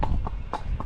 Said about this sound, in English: Doing the rising trot.